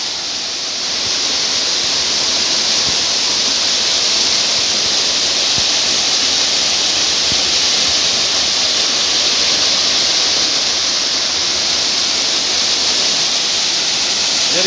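Tiwu Kalo waterfall in Coal village pours in a dense, unbroken roar of falling water, loud and close, holding steady without any voices.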